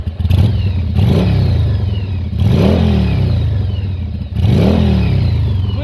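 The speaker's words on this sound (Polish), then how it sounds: "dwa razy przegazujemy" A 1996 Yamaha XV 750 Virago motorcycle engine revs hard three times, each throttle blip rising and falling in pitch over a steady idle, close and loud.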